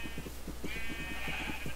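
Sheep bleating in Minecraft, a couple of drawn-out bleats over a steady low hum, with no talk.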